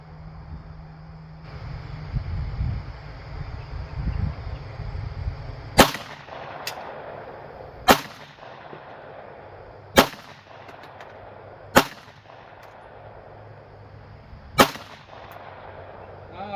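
A 9mm pistol and a .45 auto fire into a block outdoors, with sharp loud gunshots spaced a couple of seconds apart over faint wind noise, following a stretch of low rumbling handling.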